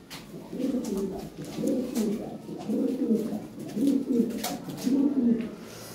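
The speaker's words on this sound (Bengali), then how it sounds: "ফার্স্ট ক্লাস কবুতর, নিউ রানিং পেয়ার" European Lahori pigeons cooing close by, several rhythmic rounds of soft, throaty coos repeating every second or so over faint background noise.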